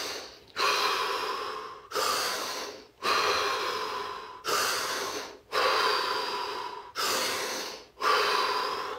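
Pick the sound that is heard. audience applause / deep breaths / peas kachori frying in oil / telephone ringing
deep breaths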